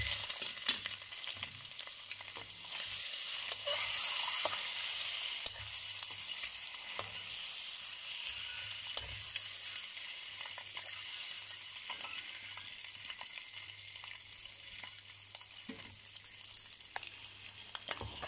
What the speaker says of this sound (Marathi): सगळ्या बाजूने छानपैकी फ्राय करून घ्यायचे।